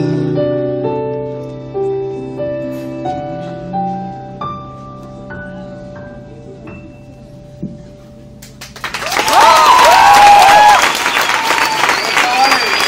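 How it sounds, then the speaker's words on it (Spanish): Loud applause from a concert crowd bursts in after several seconds of music and continues steadily to the end, with some cheering mixed in. "Un aplauso para Alejandro Martínez y para Marino Sáez,"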